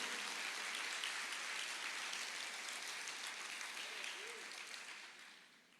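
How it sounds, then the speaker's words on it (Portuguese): Church congregation applauding during a Portuguese-language sermon, a steady dense wash of clapping that holds evenly and then fades out toward the end, with no voices over it. "Você pode aplaudir o Senhor, você pode agradecer a Jesus por isto"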